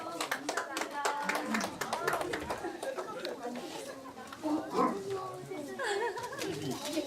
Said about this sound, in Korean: 위에서 박수.